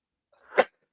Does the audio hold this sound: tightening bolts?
no